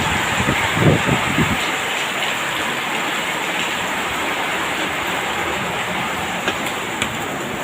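Heavy rain pours steadily in Bahrain onto a flooded street, a dense, loud hiss that holds without a break, with a few faint thumps near the start.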